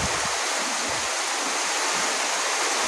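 Steady downpour in a village, a dense uniform roar of heavy rain with no pauses, close and loud, with no voices.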